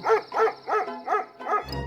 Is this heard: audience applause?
no